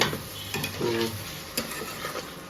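A spoon scraping and stirring masala in a pan with water, several quick clinking scrapes over a soft sizzle, close and fairly quiet, with no talking.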